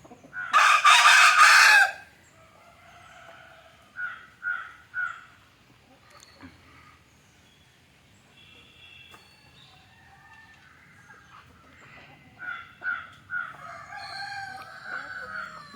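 A rooster crows repeatedly at a moderate distance, several drawn-out calls spaced across a quiet outdoor scene with a loud rustling burst at the start.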